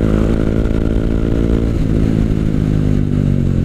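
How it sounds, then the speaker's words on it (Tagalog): A motorcycle engine braking, loud and close, gives a dense, steady rumbling drone with a slight pitch drop partway through, heard alone. "Kailangan gamitin mo yung engine brake."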